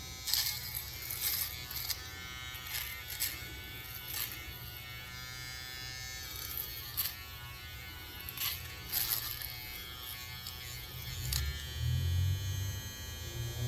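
Electric shavers, a StyleCraft Gamma and an Uno, buzz steadily and loudly up close, with a dense hum and rhythmic clicks and scrapes across the stroke. The tone shifts to a deeper rumble near the end.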